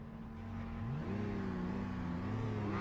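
Racing cars idle and rev in the pit lane of the Le Mans circuit in iRacing, a steady mid-pitched engine drone with a few rising revs, close and continuous.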